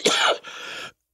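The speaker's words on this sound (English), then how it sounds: "This cough I've had for 4 weeks" One person coughs nearby, a harsh burst followed by a second raspy cough, then silence.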